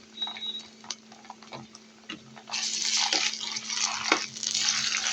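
Ginger garlic paste hitting a hot pan while making bitter gourd fry, a sudden loud sizzle that starts midway and keeps hissing steadily, preceded by quieter ticks and clinks of cookware.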